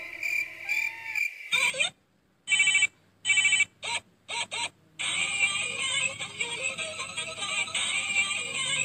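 A telephone rings in an animated Betawi comedy scene, first several short bursts of ringing separated by silence, then a continuous loud trilling ring that runs to the end; no talking over it.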